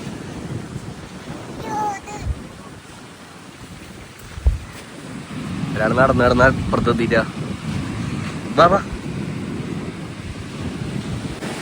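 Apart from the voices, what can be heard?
sea waves and strong wind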